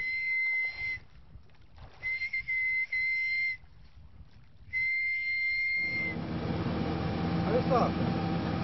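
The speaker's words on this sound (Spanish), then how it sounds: "el náufrago deberá utilizar con la mayor rapidez posible el silbato, soplando fuerte e intermitentemente" A shrill survival whistle at sea blasts in short, repeated bursts with gaps between, then gives way to a louder rumbling wash of wind and water.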